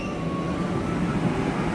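KA Gajahwong economy passenger train in Indonesia, a steady rumbling roll of rail cars with a constant low drone and faint high whine, continuous and moderately loud, with no talking.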